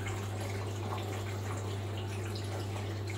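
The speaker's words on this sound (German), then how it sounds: "dann noch einige Sekunden läuft noch das Wasser nach" Water trickles steadily from an antique automatic soap dispenser, a soft continuous run under a constant low mechanical hum, alone and fairly faint for a few seconds.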